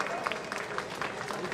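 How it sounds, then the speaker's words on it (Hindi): A crowd at a political gathering applauds in tribute to Rajiv Gandhi on his birthday, a dense, continuous patter of many hands mixed with crowd noise. "तालियां बजा करके उनको पुष्पांजलि दो"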